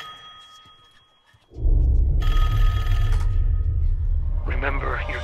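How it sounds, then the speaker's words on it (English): A telephone bell ringing after a quiet moment, a loud burst of ringing over dense low rumble and music, with a second brief ringing tone toward the end. "The final phone call."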